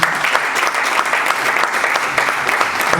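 An audience at a mycotoxins industry and research gathering gives a round of applause, a continuous, fairly loud wash of many hands clapping with no talk over it.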